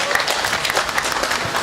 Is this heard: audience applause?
yes